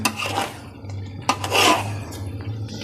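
Rice being stirred into milk in a cooking pot for sweet coconut mutanjan, with a spoon scraping and clinking against the pot in two bursts of stirring, close by.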